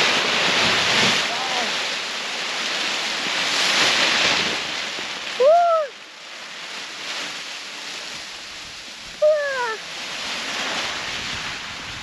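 Gusty crosswind roars across an open paragliding launch site, a broad rushing blast that swells and fades in waves, loud against the microphone, with two short shouted vocal calls breaking through.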